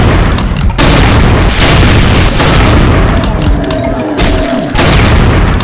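The super shotgun in the video game DOOM fires in loud, booming blasts, several heavy shots in quick succession with roaring, distorted tails and no pause in the din.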